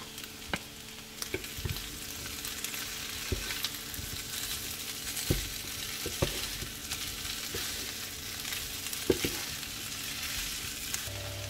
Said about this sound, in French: Et je vais verser les jambons